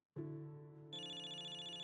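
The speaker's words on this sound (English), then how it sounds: "I can hear someone's phone ringing from the back." A phone ringtone goes off in a theater audience during a movie screening in the game Zenless Zone Zero, a steady electronic melody that starts abruptly and then jumps to a brighter, louder repeating pattern, playing alone without talk.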